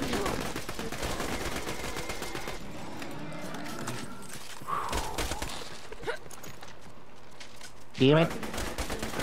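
Gunfire in Borderlands 2 co-op play, with dense rapid shots at first that thin out into scattered reports and end in a short sharp burst, while voices talk over the action.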